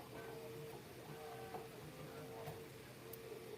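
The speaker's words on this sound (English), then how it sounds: "I'm working on something on this other printer over here" A printer running quietly at a distance, a low steady mechanical hum with faint ticks and small clicks, no voices over it.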